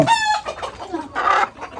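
A large rooster clucking loudly and close, a few sharp squawking calls in quick succession.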